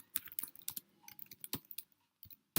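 Fingers type on a computer keyboard, a quick close run of light key clicks with short pauses, ending in a sharper tap.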